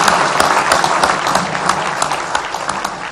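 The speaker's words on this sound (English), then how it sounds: "Applause." A crowd applauds steadily and loudly at a gathering where scientists reach a consensus on a mission tour, dense clapping filling the whole moment without pause.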